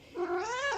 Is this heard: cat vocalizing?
yes